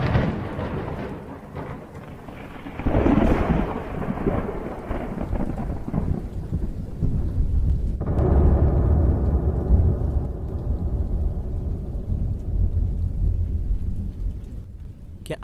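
A heavy rainstorm pours steadily as thunder rolls in. One deep rumble swells early, then a louder crash follows and fades into a long, dense downpour with no voices.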